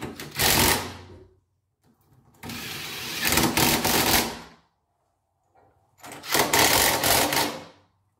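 A socket wrench tightens the fixtures on a Comec RP 900 MVA milling machine, three bursts of rapid ratcheting clicks, close and loud, separated by short pauses.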